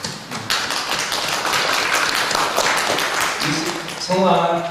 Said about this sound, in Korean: 열심히 하라고 박수 칠까요?